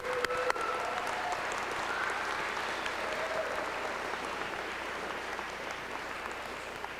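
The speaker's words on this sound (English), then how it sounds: "Let's give them a big round of applause." Graduates at a 2002 ECOT graduation ceremony applaud their parents and families, a dense, sustained round of clapping from a large crowd that holds steady for several seconds with no talking.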